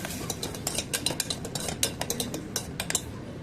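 A metal spoon scrapes and clinks rhythmically against a cooking pan while stirring ginger garlic paste with green chillies, steady close clatter with no talking.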